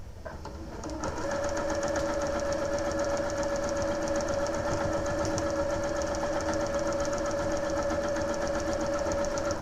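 A sewing machine stitches a paper-pieced quilt block in a steady, continuous mechanical whir with a constant hum, running close and evenly for several seconds.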